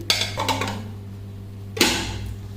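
Glass plates and a bowl, freshly bought from a month-end shopping trip, clink and knock as they are handled, with two distinct bursts of clatter separated by a quiet pause over a low steady hum.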